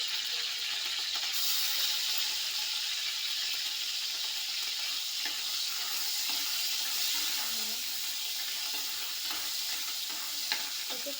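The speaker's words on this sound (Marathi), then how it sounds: "आता पनीर तेलामध्ये फ्राय करून घेऊ" Paneer frying in hot oil in a home kitchen makes a continuous soft sizzle with faint stirring scrapes, steady and fairly quiet throughout.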